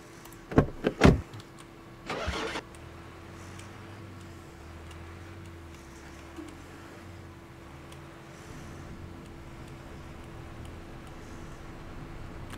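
A truck engine in the video game Dealer Simulator starts with a few sharp clicks and a short burst, then settles into a steady, low, quiet idle hum that runs for the rest of the clip.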